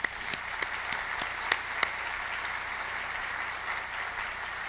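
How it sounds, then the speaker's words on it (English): Audience applause at an awards presentation during an annual conference, a steady, distant wash of many hands clapping with a few sharper claps standing out, no talk. "Let's give that company a round of applause."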